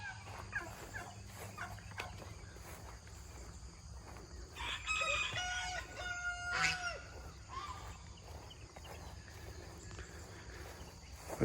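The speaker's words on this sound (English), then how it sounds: "Sounds of the homestead." A rooster crows twice in a homestead farmyard at morning, clear and fairly close, with chickens clucking faintly against a steady outdoor background hum.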